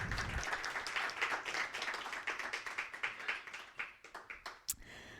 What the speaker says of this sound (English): Round of applause to you all.